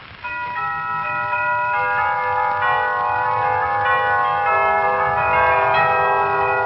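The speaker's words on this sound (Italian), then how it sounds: "Queste campane e sente tutte famiglie" Church bells peal together at Christmas, a steady layered ringing of several bells with overlapping, sustained tones that continues throughout.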